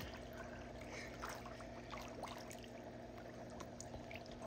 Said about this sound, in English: Oh, I can hear it bubbling over here.